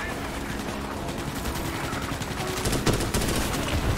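Sustained gunfire in the sci-fi shooter Starship Troopers: Extermination, a continuous rattle of automatic shots with a few louder bursts near the end, fairly close and steady over about four seconds, mixed with game noise and faint voices.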